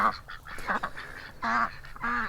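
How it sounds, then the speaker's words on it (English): Four or five raspy, honking quacks from ducks on a smallholding come in short bursts, close and fairly loud, with brief gaps between the calls. "Yes, I know, ducks, they're stealing your food"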